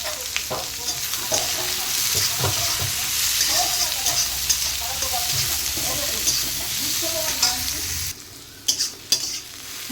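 Onions fry in a pan with a constant loud sizzle and intermittent stirring clatter, followed by a brief quieter stretch with a few sharp knocks.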